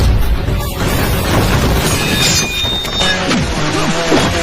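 Film fight scene in which a gang of thugs shoots at wedding offerings: dense, continuous clash of booming impacts and crashing bursts with a layered score-like hum, loud throughout with no clear pauses.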